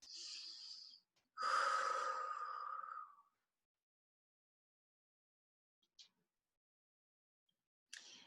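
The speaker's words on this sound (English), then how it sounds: "So take a couple of deep breaths." A person takes deep breaths close by, with a long inhale and a longer, audible exhale, followed by silence and a couple of faint, brief breath sounds.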